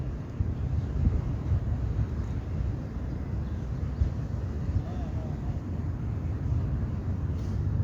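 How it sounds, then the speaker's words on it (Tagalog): Strong seaside wind roars steadily into the microphone, a dense low rumble that never lets up, with no voices heard. "Malakas ang hangin."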